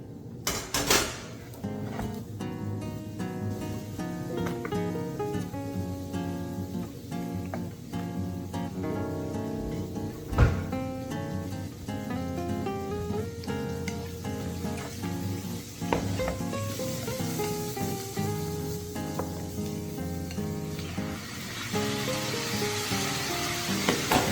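Beef and bitter gourd fry in a pan, a steady sizzle with tonal music running throughout, plus a few sharp knocks and scrapes of stirring, close-up.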